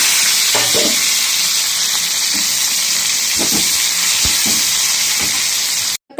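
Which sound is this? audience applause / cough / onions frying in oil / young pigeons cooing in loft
onions frying in oil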